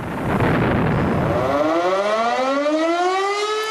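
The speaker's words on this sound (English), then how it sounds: "sirens to commemorate the first civilian casualties of the Second World War" A loud air raid siren winds up from a low growl into a rising, wavering wail, with a second tone sliding upward beneath it, sounded before dawn to commemorate Second World War casualties.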